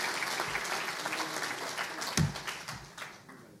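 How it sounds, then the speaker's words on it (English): Conference audience applause: a room full of people clapping steadily at moderate distance, with a few louder individual claps standing out before the sound tapers off. "another round of applause for all of our staff"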